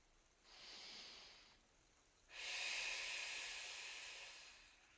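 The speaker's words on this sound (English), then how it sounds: "One more lovely and deep breath here." Two slow, deep breaths taken during a yoga class, heard up close: a softer airy inhale-like breath, a brief gap, then a longer, louder, hissing breath that tapers off gradually, with no speech.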